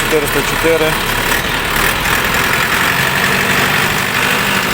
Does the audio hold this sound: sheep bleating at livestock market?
no